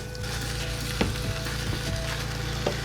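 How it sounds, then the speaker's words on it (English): Flour being stirred into a steadily sizzling pan for chili verde, with a continuous frying hiss and a few soft scrapes and clicks of the spoon against the pan, no talking. "So we're gonna start adding in some flour here."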